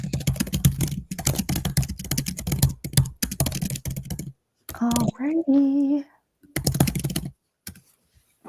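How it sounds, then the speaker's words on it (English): A computer keyboard clacks loudly in rapid bursts of aggressive typing and clicking, pausing briefly while a voice speaks, then resuming close to the microphone. "doing that real loud clicking again"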